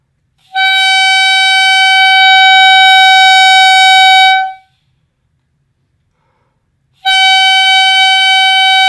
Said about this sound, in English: let's go ahead and try and make a sound on the clarinet.